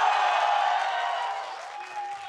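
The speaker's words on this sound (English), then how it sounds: "The crowd is absolutely nuts so far today." A large crowd at an esports playoff semifinal cheers and roars continuously, a dense wash of voices that slowly fades over a couple of seconds, with no single voice standing out.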